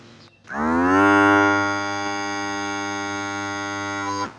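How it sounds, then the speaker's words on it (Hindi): A Realme electric hair trimmer switches on and runs with a loud, steady buzzing drone close by, with no talking. "अभी जो है यहाँ पर रियलमी ट्रिमर ऑन कर रहा हूँ।"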